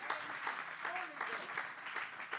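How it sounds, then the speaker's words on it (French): Applause from a church congregation during a bilingual English–French sermon, a steady dense crackle of many hands clapping together for a couple of seconds, fairly loud and close, with no clear talk over it. "Let's give him a clap offering."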